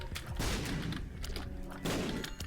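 Rapid shots fire in The Binding of Isaac, with a dense flurry of thumping bursts in two loud waves separated by a brief lull.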